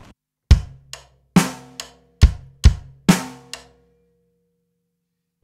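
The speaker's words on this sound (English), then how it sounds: "if I put that together with the rim of the low tom," A drum kit plays a simple groove: kick and snare hits alternate in a steady pattern with sharp rim clicks on the low tom between them, several close, punchy strikes and then silence.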